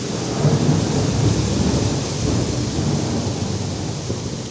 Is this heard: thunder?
yes